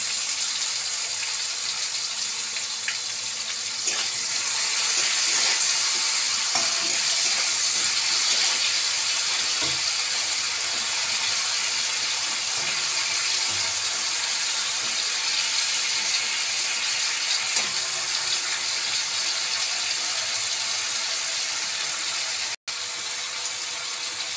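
Tomatoes with salt frying in a pan, heard as a steady, loud, continuous sizzle that holds alone for the whole stretch, with faint scattered clicks and one sharp tap near the end.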